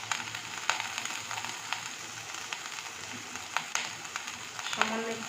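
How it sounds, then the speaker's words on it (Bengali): Ginger and garlic paste with turmeric fries in a pan, a soft continuous sizzle with occasional light stirring clicks, fairly quiet and close. "এবার এটা কাঁচা গন্ধটা চলে যাওয়া পর্যন্ত মশলাটাকে কষাবো ভালো করে।"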